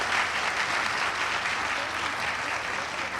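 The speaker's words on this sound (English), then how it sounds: "A big round of applause for our chief" Enthusiastic audience applause greeting the chief guest at an international engineering university conference, a thick, even wash of clapping that stays loud throughout the short stretch.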